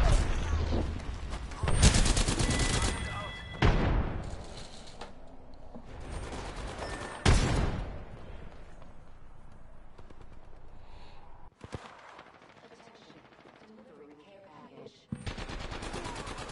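Heavy gunfire in the Apex Legends video game, with a charge rifle involved: several loud broadband bursts and sharp reports separated by quieter stretches, with voices talking in the background.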